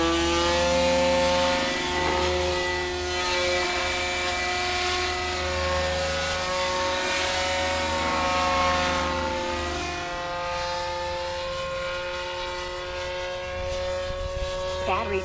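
A Goblin 500 RC helicopter with its motor spinning up and then flying, a loud, sustained whine with tones that climb and shift, running continuously and close by.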